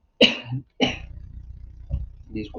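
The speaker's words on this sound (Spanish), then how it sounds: "porque me da la tos ahora mismo." A person coughs twice in quick succession, loud and close, followed by a rougher throaty cough tailing off into breathy clearing sounds.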